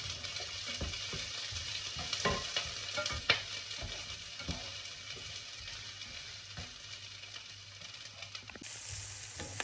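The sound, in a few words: sautéing onions, garlic and spring onions in a pan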